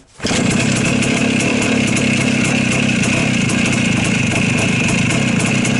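A cold Voskhod 3M motorcycle engine runs steadily at close range, a loud, constant two-stroke buzz and rumble that continues for the whole stretch without a break.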